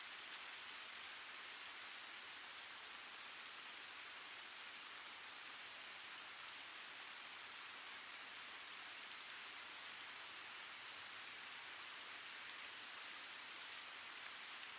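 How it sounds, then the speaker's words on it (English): Steady rain trickles and patters on surfaces, a soft, even hiss of countless drops that carries on without break, close and calm, with no voices or thunder. "the rain continues to trickle down"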